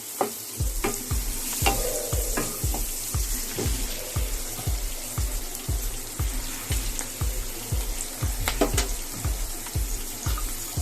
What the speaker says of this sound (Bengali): দিয়ে একটু নেড়ে চেড়ে নেব।